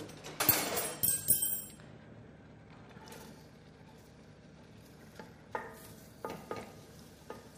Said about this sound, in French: Je vais rajouter l'oignon émincé.